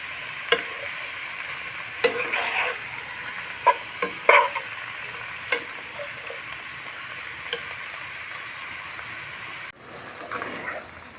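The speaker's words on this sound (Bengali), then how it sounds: "মিশিয়ে নিয়ে আমি চার পাঁচ মিনিট এটা ভালোভাবে ভাজবো" Ash gourd mixture for a fish-head curry fries in a pan with a steady sizzle, while a utensil scrapes and stirs it in a few sharp clacks. The sound drops away abruptly near the end.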